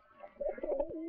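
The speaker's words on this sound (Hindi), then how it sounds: "कबूतरों को दाना खिला रहे?" Pigeons cooing while being fed grain, a soft, throaty, rolling coo from a nearby bird, quiet and alone, rising and holding for under a second.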